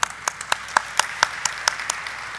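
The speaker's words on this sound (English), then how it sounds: "Let's have a huge round of applause for him." Audience applause at a stock exchange IPO listing ceremony for PB Fintech (Policybazaar) on the NSE, heard as a steady run of distinct, fairly loud claps in an even rhythm over a room-tone background.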